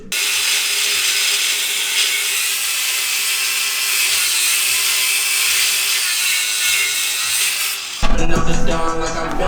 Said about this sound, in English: I'm gonna go ahead and take an angle grinder, cut this off